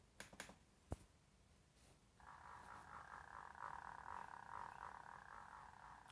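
Sonified chaotic signal resembling a frog croak: a few sharp clicks and snaps, then a sustained, buzzy, irregularly pulsing croak that carries on to the end.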